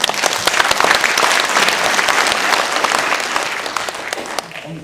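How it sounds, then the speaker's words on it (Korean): Close, loud audience applause at an apple growers' winter conference lecture, many hands clapping in a dense, crackling burst that holds strong then gradually thins toward the end. "박수 부탁드립니다"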